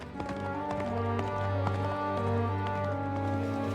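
Horse hooves clip-clopping in the video game Kingdom Come Deliverance 2, a steady run of sharp, evenly spaced hoof taps over a sustained tonal game music bed, with no talking.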